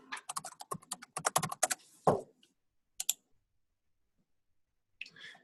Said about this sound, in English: you're going to type in your password in that box that pops up